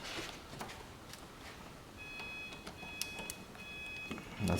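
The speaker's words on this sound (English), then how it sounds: "That's the sound of the car coming back alive." Subaru electronics powering back on after the battery is reconnected, a few short electronic tones chiming at a steady pitch over faint background noise, with a louder clunk at the very end.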